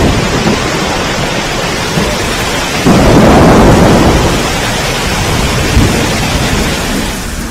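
A downpour pounds steadily at Pavagadh as thunder rolls, with a loud rumbling surge in the middle. The broadband rain noise stays heavy and close throughout, and no one speaks.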